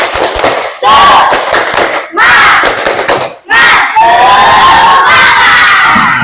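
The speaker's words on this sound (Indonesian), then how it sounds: "Coba tepuk semangat" A school class joins in the 'tepuk semangat' cheer, with bursts of rhythmic clapping and loud chanted shouts from many children. It comes in several loud waves with brief pauses between them.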